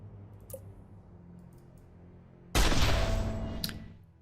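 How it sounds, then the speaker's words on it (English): Sniper shot in the video game Marvel Avengers Alliance: a single sharp, loud burst that hits abruptly and then sustains a rough crackling tail for over a second, preceded by faint clicks. "Pretty solid sniper shot"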